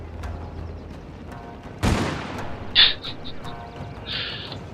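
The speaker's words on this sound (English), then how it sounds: "Some heavy gunners started to shoot them" Heavy gunner units in the video game Total War Shogun 2 open fire: a sharp, loud volley burst stands out, followed by scattered crackling shots and bright metallic pops over a low battlefield bed.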